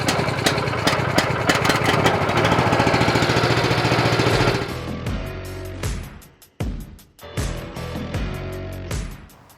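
A Vallee Rebel portable sawmill motor runs loud and close, a steady rapid mechanical chatter that cuts off partway through, followed by several sputtering bursts and knocks as it winds down and restarts unevenly.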